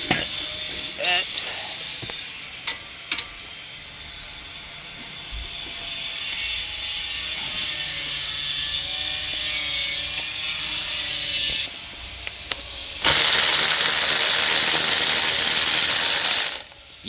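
A ratchet wrench works on the front brake caliper bolts of a Dodge Durango G/T, with a long stretch of steady mechanical whirring and clicking, then a louder, harsher burst near the end, among tool clinks and handling sounds.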